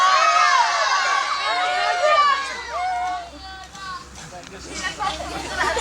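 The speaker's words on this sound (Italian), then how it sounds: "Fate voi un bell'urlo al posto di Monica." A group of people in a swimming safety class shout a loud scream together, a chaotic burst of voices that tapers off, with some talk mixed in.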